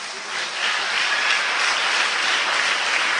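Spectators at a district-level kunita bhajan dance competition in Thokkottu break into applause, a steady, dense wash of clapping that swells slightly after the first half second and holds at an even level.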